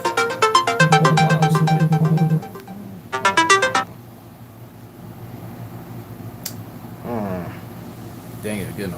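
A phone ringtone chirps in two rapid electronic bursts of trilling tones for an incoming call, then fades to a quiet room with faint fainter chirps near the end.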